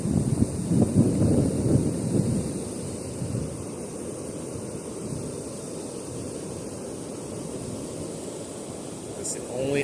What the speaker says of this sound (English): Fall sucks when it comes to wind.